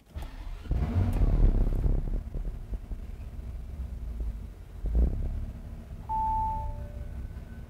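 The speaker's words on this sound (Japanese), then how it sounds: "ではエンジン始動していきます。" A 2016 Bentley Bentayga's 6.0-litre W12 engine cranks and fires up with a deep rumble, revs briefly, then settles into a steady idle; no one speaks.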